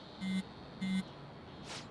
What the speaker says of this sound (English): Hey, your phone's buzzing.